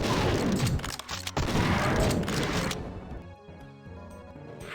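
Super shotgun blasts in Doom II, a heavy burst of loud, dense gunfire and impacts that drops away to quieter game sounds and music near the end.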